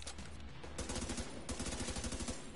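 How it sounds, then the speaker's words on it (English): Blind fire in The Division 2 on PS4 Pro, a fast run of gunshots that starts moderate and then turns into a dense, rapid burst of close rounds, with no voice over it. "I'm just, you know, fucking blind firing right here."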